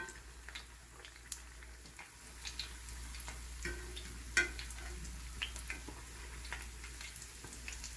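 Caribbean yeast fry bakes, soft dumplings from St Vincent, sizzling steadily in hot oil in a pan, a quiet constant crackle with scattered pops and ticks throughout.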